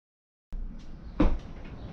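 A wooden sliding door moves along a greased rail aboard an old wrecked boat, starting suddenly with a short scraping roll and a brief louder bump partway through, heard close and alone.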